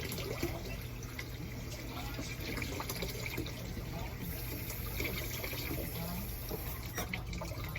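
Water runs from a home faucet in an even, continuous stream, a steady hiss and trickle throughout, with a voice faintly in the background.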